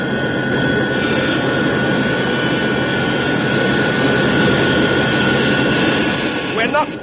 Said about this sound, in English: The jets are about to fire.